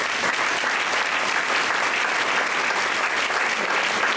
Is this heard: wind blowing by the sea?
no